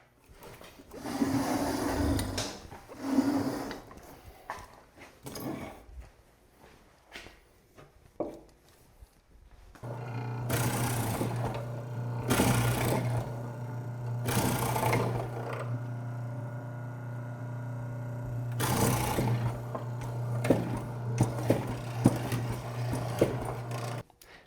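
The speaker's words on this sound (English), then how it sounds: "I'm going to move my mortising machine to the center here" A bench mortising machine cuts mortises in softwood for a solid wood door, its motor humming steadily while the chisel plunges in repeated loud bursts, close and without talk.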